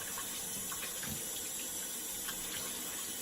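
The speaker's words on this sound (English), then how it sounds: "Wash off my hands here." Water runs steadily from a tap while hands are washed at a sink during a shave routine, a continuous close hiss with faint splashing and no talking.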